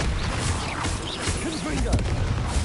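A Bombarda exploding curse in a Harry Potter video game blasts amid rapid combat, with booming impacts and crackling bursts layered over a busy, noisy battle and voices.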